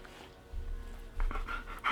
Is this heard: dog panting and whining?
yes